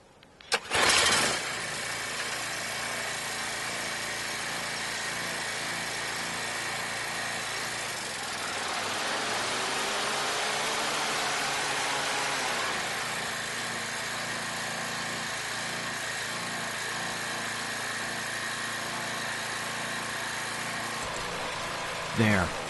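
A Toro TimeMaster lawn mower engine runs on the fuel left in its carburetor after the tank is emptied. It keeps a steady, droning idle close by for about twenty seconds, then sputters briefly at the end.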